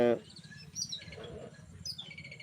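Sparrows tweet and chirp repeatedly in short, bright bursts over a soft background murmur, fairly close and clear.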